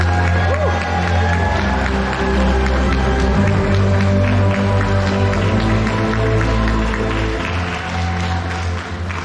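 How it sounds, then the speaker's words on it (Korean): An audience at an exhibition opening in a provincial art museum gives sustained applause to welcome the artist, a broad wash of clapping with some crowd murmur and a low hum underneath. "보다 더 큰 박수로 환영해 주시죠"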